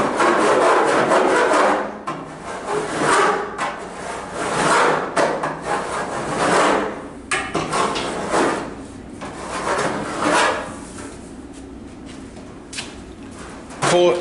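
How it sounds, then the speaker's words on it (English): A hand file rasps back and forth across metal, with long repeated pull strokes and brief pauses between them, close and fairly loud, while a voice talks in the background. "When you're filing, you get a file like this."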